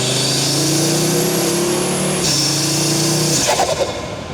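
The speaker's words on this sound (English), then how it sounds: "So this is what it sounded like before we did the turbo inlet upgrade." Audi RS3/TTRS five-cylinder turbo engine with stock turbo inlet revving, a loud close steady rising drone that holds, dips, and then drops off with a brief burst of crackle as the revs fall.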